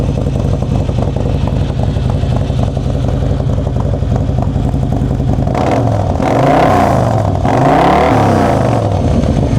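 A 2023 Harley-Davidson Road Glide Special engine with a 2-into-1 exhaust idles loudly nearby, then revs up in a couple of rising and falling bursts toward the end.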